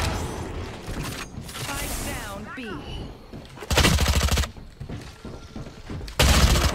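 Bursts of rapid automatic gunfire from the video game Valorant come in two loud volleys, separated by stretches of excited talk.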